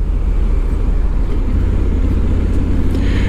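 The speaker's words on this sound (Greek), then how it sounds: "Βλέπετε πως κατεβαίνουν οι ταχύτητες μόνες τους." Honda Africa Twin 1100 DCT motorcycle (2022) gear-shifting automatically on its own: a steady, loud engine drone whose low rumble shifts pitch partway through, with wind rush over it.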